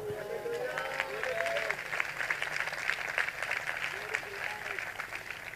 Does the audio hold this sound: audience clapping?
yes